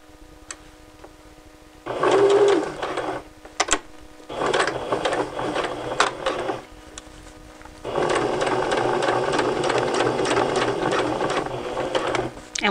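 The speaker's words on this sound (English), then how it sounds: "I'm right at the edge, so I'm going to sew a couple of stitches forward" A sewing machine stitches fabric in three bursts of rapid mechanical whirring, first a short one, then a longer run, then a sustained stretch, with quiet pauses between and no talking.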